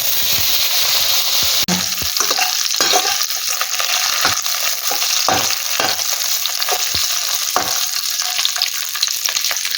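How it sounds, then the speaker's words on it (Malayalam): Cashew nuts and grapes sizzle steadily in hot oil in a pan, with a continuous close frying hiss and occasional stirring scrapes, no voices. "കുറച്ച് കാഷ്യൂനട്ട് ഇടാം നമുക്കൊന്ന് ഫ്രൈ ചെയ്യാം ഇതുപോലെ കാഷ്യൂനട്ടായി ഇനി നമുക്ക് ഗ്രേപ്സ് ഇതിലേക്ക് ഇടാം"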